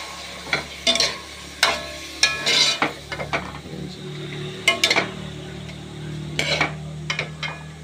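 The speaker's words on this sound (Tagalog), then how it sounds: "Gisahin muna natin ito." Eggplant, sweet potato leaves and chili being sautéed in a pan for squid sinigang, with a steady sizzle broken by repeated sharp scrapes and clinks of a utensil stirring against the pan.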